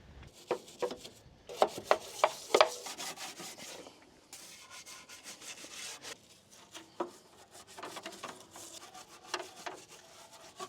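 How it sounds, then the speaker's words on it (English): Degreaser being scrubbed off an oil-caked BMW E30 frame rail: close, irregular bursts of rubbing and scraping, sharper strokes early on, then a steadier brushing texture. "Now I'm gonna add another layer of degreaser on it and this time actually scrub it down and try to get rid of the rest of the gunk."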